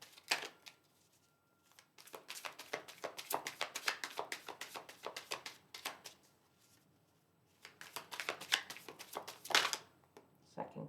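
Tarot cards drawn and handled in quick bursts of shuffling and flicking, with crisp slaps and riffles coming close up in two busy stretches separated by a quiet pause.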